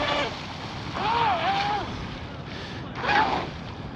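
A small electric motor of an RC hydroplane boat, running on two 4S LiPo packs, whines steadily over wind and rushing water, its pitch sliding up and down as the boat speeds and turns.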